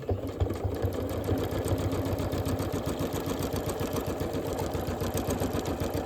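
A sewing machine quilting a table runner hums in a steady, rapid, rhythmic stitching drone that carries on without a break, close up with no talking.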